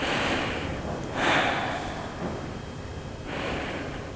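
Slow breathing held through a seated yoga twist, soft airy inhales and exhales rising and falling a few times, close and quiet with no talking.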